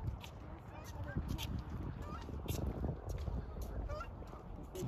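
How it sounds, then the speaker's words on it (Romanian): Geese honking in a park, with several loud nearby honks over a busy outdoor background, and a voice talking over them. "E gâscă."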